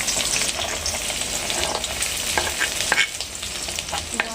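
Onion sizzles and crackles in hot oil in a pan for pasta, a loud, steady close frying hiss with scattered pops and occasional stirring scrapes, no voices.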